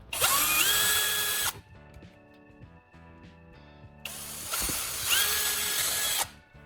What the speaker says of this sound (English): Use a drill or a heated nail to make 2 small holes on opposite sides of the lamp